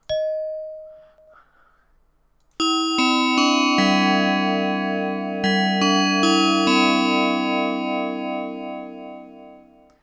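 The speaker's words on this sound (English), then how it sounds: "Who would have such a long lift chime?" Long elevator arrival chime: a brief tone first, then a sustained series of overlapping bell-like notes ringing out loudly with rich harmonics for several seconds, no talking.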